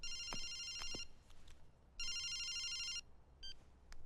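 An electronic telephone rings in a quiet room: a short trilling burst, a pause, then another full second-long ring and a brief chirp at the end.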